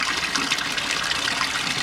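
Water gushes steadily into a tube to prime the pump of a pressure washer used for roof cleaning, a close, constant splashing rush throughout.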